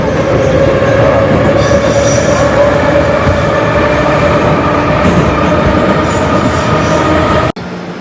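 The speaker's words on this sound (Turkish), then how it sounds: "metrodan iniyoruz." A Tashkent metro train running loud and close, a continuous rumble with a sustained wheel squeal and faint clatter that stops abruptly near the end.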